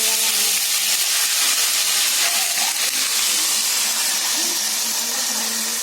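Ginger and garlic fry in hot oil in a kadhai over a gas flame, giving a loud, continuous, close-up sizzle that stays even throughout.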